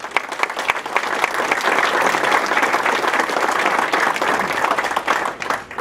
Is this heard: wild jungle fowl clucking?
no